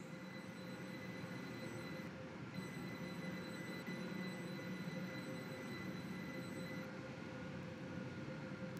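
A four-coach train in the Roblox game Stepford County Railway idles at a platform at Benton with a steady low mechanical hum, faint high-pitched whine, and a brief dip in the hiss partway through.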